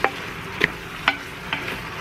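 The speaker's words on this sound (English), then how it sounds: "I'm gonna brown up 3 pounds of ground beef" Three pounds of ground beef browning in a pan while a spatula breaks it up: a few separate scraping strokes over a faint, low sizzle, nearby and quiet, with no talking.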